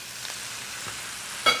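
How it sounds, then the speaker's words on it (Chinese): Beef short ribs and garlic, added to a pan where onions have been frying, give a short close sizzle with a brief clatter near the end. "来，就将我们的那个牛排蒜头哦下锅。"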